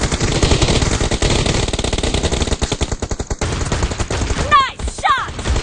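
Shotgun gunfire from an M1014 in PUBG Mobile: dense, loud bursts of game shots and clatter fill the clip, with a couple of sharp chirping effects near the end.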